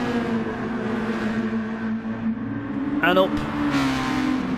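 Red Bull Junior race cars lapping the Brands Hatch GP circuit, their engines a steady droning whine with one rising sweep, heard under continuous commentary.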